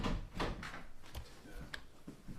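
A bathroom door swings shut indoors, giving a few faint, soft knocks and a light latch click spread over a couple of seconds in an otherwise quiet room.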